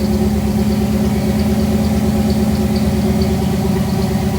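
A repaired cheap Jeep's engine runs steadily at idle, a loud, close, continuous low rumble with a regular pulsing throb and no voices over it.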